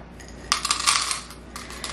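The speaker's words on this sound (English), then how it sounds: "So you should dehydrate these rhubarb until they're hard and they make a sound like this." Hard, dried rhubarb pieces rattle inside a glass jar, giving a burst of bright clinking and ticking as the jar is shaken, with a few scattered taps after it, close up and without talking.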